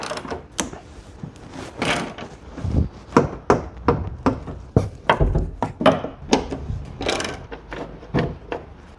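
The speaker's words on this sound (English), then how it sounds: "I'll continue the removing process with removal of this nut and that nut" Metallic clanks, ratchet clicks and wrench knocks from nuts being undone on a wrecked BMW 540i, a steady run of sharp, close taps and clunks over about nine seconds.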